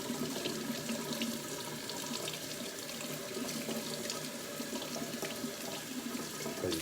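Steady running tap water splashing into a sink as cabbage leaves are rinsed, a continuous close hiss and patter with no voices.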